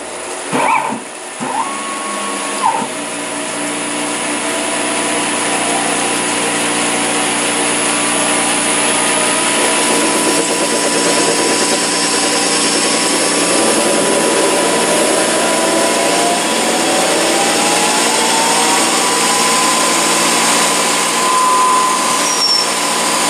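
A CNC lathe runs through a parting operation, its steady loud machine drone and high cutting whine holding throughout after a few brief clunks at the start.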